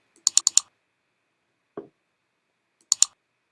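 Computer mouse clicks on a desk, quick light taps in a short cluster, one softer click alone, then another pair, close and quiet against silence.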